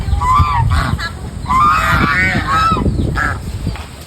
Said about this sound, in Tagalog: Gansa oh.